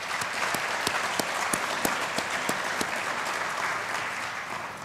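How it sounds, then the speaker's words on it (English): An audience claps in sustained applause at a 40th anniversary commemorative celebration, a dense steady patter of many hands with a few sharper individual claps standing out, holding even throughout. "Please join me in giving a round of applause for them."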